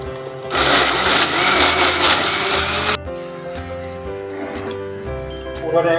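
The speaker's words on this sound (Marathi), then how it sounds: "व्यवस्थित असं मिक्सरला लावले मी" A kitchen mixer grinder whirs loudly at high speed for a few seconds, grinding puran filling of cooked lentils and jaggery, then cuts down to a lower motor hum with a steady drone.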